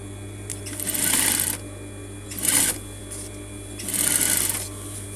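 A sewing machine stitches a coat collar in three loud, steady bursts, with short pauses of low motor hum between runs and no one speaking.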